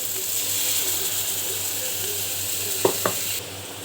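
Paneer curry with yogurt sizzles in a pan as it is stirred, a close steady hiss with two sharp scraping knocks of the spoon near the end before the sizzle drops back.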